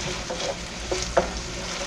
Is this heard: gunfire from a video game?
no